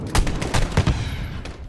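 Call of Duty Modern Warfare gunfire during the Embassy mission, a loud close burst of rapid repeated shots in an uneven rattling rhythm that fades out near the end.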